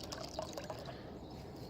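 Water trickles and pours into a bucket of carp-fishing pellets outdoors, a soft, steady liquid filling sound that stays close and fairly quiet throughout.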